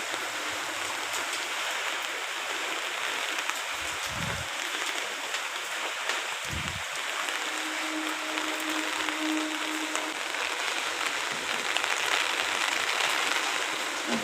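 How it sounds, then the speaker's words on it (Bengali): Heavy cyclone rain pours steadily onto a flooded garden and house, a dense, unbroken roar of falling water with a couple of low thumps partway through. "একইভাবে বৃষ্টি পড়েই যাচ্ছে"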